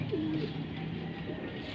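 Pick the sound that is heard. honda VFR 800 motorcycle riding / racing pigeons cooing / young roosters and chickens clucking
racing pigeons cooing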